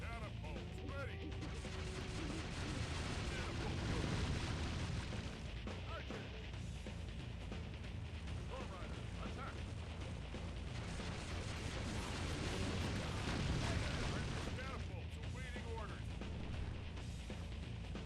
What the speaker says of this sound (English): Catapults ready.